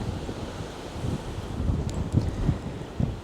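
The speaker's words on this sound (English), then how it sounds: "Oh, it's windy." Strong wind on a narrowboat buffets the microphone in low, gusty rumbles that rise and fall, loud and close.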